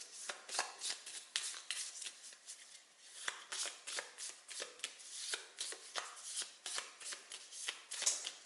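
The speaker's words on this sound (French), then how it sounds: "on mélange le deck épisode, on le place" A deck of board game cards from Legendary Encounters: Firefly is shuffled continuously by hand, giving a steady run of soft, rapid papery flicks and riffles, close and quiet, with no voices.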